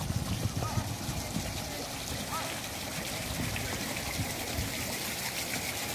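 Water flows and trickles steadily at an outdoor carp pond, a continuous close babbling wash with a low rumble underneath and faint background voices.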